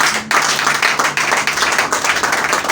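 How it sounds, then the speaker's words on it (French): A church congregation clapping together, loud dense applause starting abruptly after a brief pause and continuing steadily to the end, with faint voices mixed in. "Il faut applaudir à Dieu."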